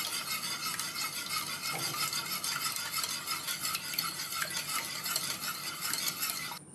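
Two eggs being beaten in a bowl for a mutton keema cutlet, a steady fast whisking and clinking of utensil against the bowl running throughout at an even level, with no talk.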